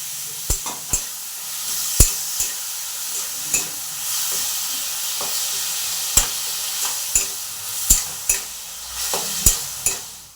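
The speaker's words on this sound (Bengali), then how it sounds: "ভালো করে টমেটোগুলো আগে ভেজে নিচ্ছি। এতটা গুড় আমি দিয়ে দিলাম।" Tomatoes fry with jaggery in a pan for a goat meat and eggplant dish, giving a steady loud sizzle and hiss broken by frequent sharp clicks of a utensil stirring against the pan.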